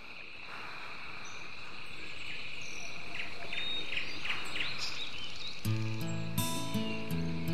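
Cicadas drone in a steady, high, shrill chorus outdoors in a quiet natural setting. A brief musical tone joins near the end.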